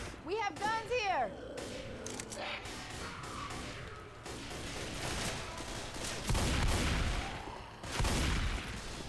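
Gunfire in the video game Left 4 Dead 2, with bursts of shots and crashing impacts scattered through a busy mix while someone talks over the action.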